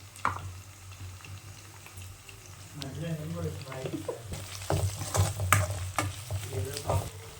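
Ginger paste and onions stir-fried together in a pan, a soft sizzle under clattering stirring strokes that thicken midway, with faint background voices or kitchen noise at a low level.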